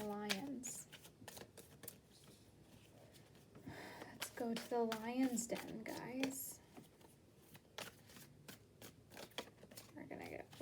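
Tarot cards being shuffled by hand in repeated bursts of riffling and slapping, close and fairly quiet, with someone talking between and over the shuffles.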